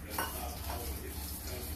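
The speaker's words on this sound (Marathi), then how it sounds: "कढई तपली तर आपण शेंगदाणे भाजायला टाकूया." Damp peanuts tipped into a hot kadhai for dry roasting, giving a brief rattling clatter and soft sizzle that settles into continuous stirring scrapes against the metal pan.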